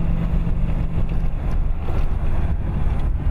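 Golf buggy driving over rocky ground backstage at the Isle of Wight Festival, a loud continuous rumble and rattle with wind buffeting the microphone throughout.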